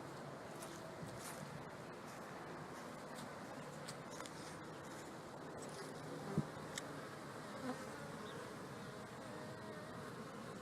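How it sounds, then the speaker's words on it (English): Honey bees fly in and out at the front of a busy hive, a steady close buzzing drone that holds evenly throughout with occasional louder passes near the microphone. "there's lots of activity at the front coming in."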